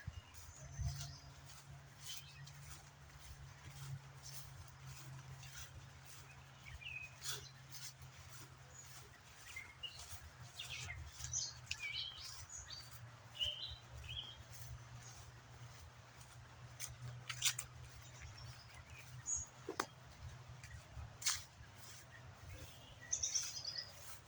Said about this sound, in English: I'm also hearing robins.